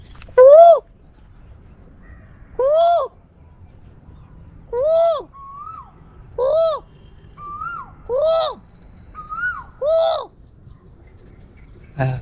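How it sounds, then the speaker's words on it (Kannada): Koel calls near Bangalore repeat about every two seconds, six loud rising-and-falling notes, with fainter answering calls in the gaps. "ಕೋಗಿಲೆ ಸೌಂಡ್ ಹಂಗೆ ಕೇಳಿಸ್ಕೊಳ್ಳಿ"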